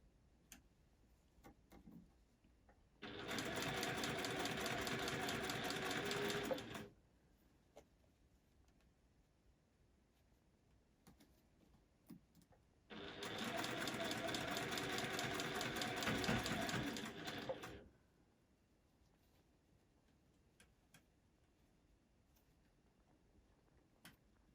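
Juki industrial sewing machine stitching a fabric face mask in a workshop, two steady bursts of fast, even mechanical stitching of several seconds each, separated by quiet pauses.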